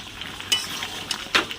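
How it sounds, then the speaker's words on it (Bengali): Meat cooking in a pan on a gas stove, with stirring scrapes, clinks of a utensil and a soft sizzle underneath, several brief louder scrapes standing out. "গ্যাসে এসে মাংসটা রান্না করছি।"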